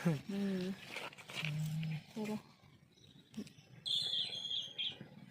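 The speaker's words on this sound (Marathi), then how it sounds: "तिथं बसलं की पक्ष्यांचा आवाज ऐकायला छान" Birds chirp high and fairly clear in the background, mostly near the end, while people talk nearby.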